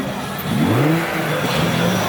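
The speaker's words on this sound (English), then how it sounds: "We got Ghost R33 showing up." A Nissan Skyline R33 nicknamed Ghost pulls into a nighttime JDM car meet in Okinawa, Japan, its engine rising in a loud, close rev that swells and then settles into a steady drone.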